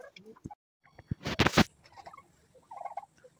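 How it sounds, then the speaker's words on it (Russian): Domestic turkeys gobble in a short burst of loud, rattling calls at close range while feeding, with softer clucks and gobbles before and after. "сижу, наблюдаю со своими индюками"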